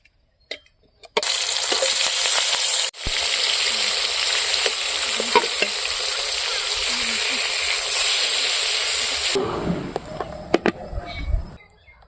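Thin pieces of rohu fish fry in hot oil, giving a loud, steady, close sizzle that starts abruptly, runs for several seconds with a brief dip, then cuts off into quieter clatter.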